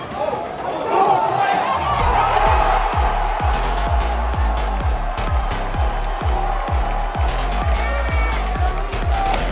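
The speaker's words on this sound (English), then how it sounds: "Finally got another goal. Crowd's into it." Stadium crowd at a La Liga summer tour soccer match at Oracle Park in San Francisco roars after a goal, with sustained cheering, chanting and rhythmic thumping drums or clapping throughout.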